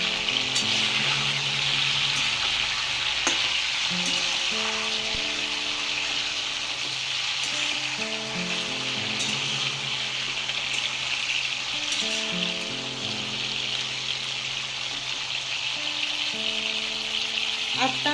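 Stuffed brinjal sizzles and fries in a pan, a loud, continuous hiss close by with faint background tones throughout.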